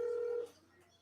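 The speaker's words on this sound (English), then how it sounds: "We got gonna get Bill Clinton on the phone here" A telephone sounds a single short steady dialing tone of about half a second, then falls quiet.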